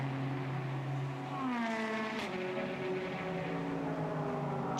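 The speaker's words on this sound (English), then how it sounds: "there you also got an example of the different sounds the cars make" GT race cars at Suzuka circuit in a 1000 km endurance race, engines rising and falling in pitch as they pass one after another, loud and continuous with overlapping engine notes and no talk.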